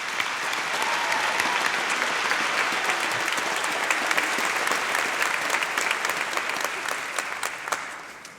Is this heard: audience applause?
yes